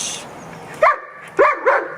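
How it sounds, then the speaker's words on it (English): A trained dog barks on the speak command, giving three short, sharp barks close up, the last two in quick succession, with no talk over them. "He'll bark."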